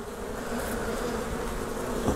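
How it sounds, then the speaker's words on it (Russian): Honeybees at a broken, collapsed hive in an apiary, giving a dense, continuous buzz that stays close and steady throughout with no voices. "Улей тут. Пчелы бедолажные."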